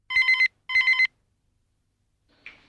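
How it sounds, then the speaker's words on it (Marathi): A home telephone rings in a Marathi short play: two quick trilling bell bursts, moderately loud and close, then silence and a faint short click or chirp. "अरे बघ, तिचाच असेल फोन."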